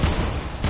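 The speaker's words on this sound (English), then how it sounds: "Drive-by shooting." Video game gunfire from a drive-by shooting: a quick close burst of shots, then a second burst after a brief pause.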